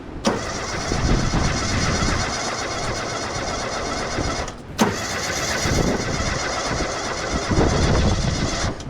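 A car engine cranks and catches, then runs roughly at a steady idle, loud and close, with a brief dip midway before revving again.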